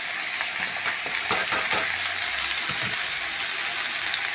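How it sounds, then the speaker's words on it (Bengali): Vegetables tipped into hot oil with black cumin seeds, a sustained hissing fry with rattling and clattering as pieces tumble into the pan, close and steady, nobody talking. "এখন আমি সব সবজিগুলো দিয়ে দেবো সব এক এক করে ঢেলে দেবো দিলাম ঢেলে"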